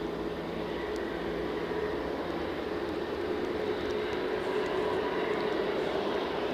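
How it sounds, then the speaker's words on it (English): A plane moves on the ground at Edinburgh Airport on a gusty, stormy morning, a steady distant engine roar and hum that holds level throughout under wind noise, with no talk. "I can hear a plane moving"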